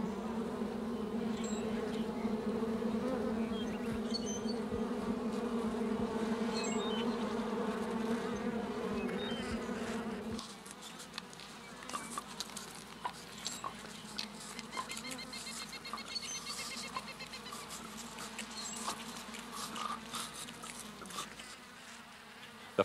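A colony of honeybees in oak hickory woodland in East Texas buzzes as a steady, soft swarm drone, later thinning to scattered individual bee buzzes close by.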